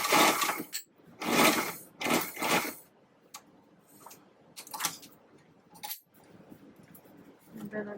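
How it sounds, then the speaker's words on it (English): A sewing machine stitches along the straight edge of a pleated fabric face mask in short, loud, close bursts of rapid whirring. Each burst lasts about a second and is separated by pauses and a few lighter clicks. "And then I'm just going to sew along."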